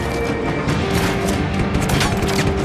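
Shooting the core electrical unit in Just Cause 3 sets off a dense, loud stretch of game combat: a heavy explosion tangled with rapid gunfire and crashing debris, sustained roughly evenly throughout.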